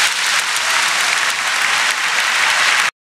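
Steady, dense applause from many hands greets two guitar solos, a loud even wash of clapping for about three seconds before it cuts off abruptly.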